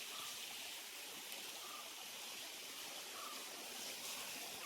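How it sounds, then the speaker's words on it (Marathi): Water runs down a small village waterfall, running low in the dry season, a faint steady rushing wash with no talk over it. "आणि हा धबधबा आहे"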